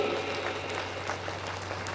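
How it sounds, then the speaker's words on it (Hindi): Devotees applaud at a Hindu religious discourse, a steady, fairly soft patter of clapping heard from a middle distance over a low hall hum. "एक बार जोरदार तालियां बजाएं सभी भक्तों के लिए।"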